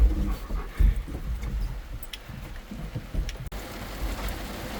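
Rain falls steadily outdoors at a fair, a dense hiss of drops pattering on surfaces, with a few heavier thuds.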